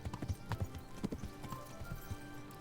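Horse hooves clip-clop in the medieval video game Kingdom Come: Deliverance, a quiet, uneven trot of soft thuds repeating steadily with faint background ambience.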